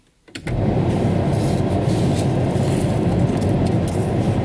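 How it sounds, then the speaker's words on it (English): The heater blower fan in a budget LS-swapped turbo Ford Ranger pickup kicks on after a brief silence, then holds a steady, dense whooshing roar inside the cab, with no talking. "You can hear the blower running"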